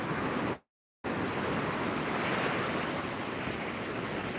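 Ocean surf at Seminyak beach in Bali, a continuous broad wash of waves mixed with wind rumble on the microphone, interrupted by a short gap of silence near the start, no voices heard.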